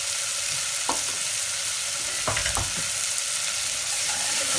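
Chopped onion with about half a teaspoon of salt sizzles steadily in a pan, with a few scraping stirs of a spoon cutting through the hiss and no talking.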